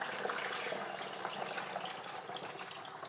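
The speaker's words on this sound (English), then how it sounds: "And then you're going to fill the balance of that up with water." Tap water pours steadily into a glass spray bottle in a kitchen, a continuous hiss-like gushing that holds an even, moderate level throughout with no voices.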